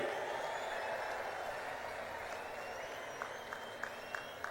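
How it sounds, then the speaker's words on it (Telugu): Broad, distant applause from a large crowd at an outdoor public rally in Kurnool district welcoming Narendra Modi, a steady wash of clapping that slowly fades, with a few faint rhythmic claps near the end. "గట్టిగా చప్పట్లు కొట్టి స్వాగతం పలకండి"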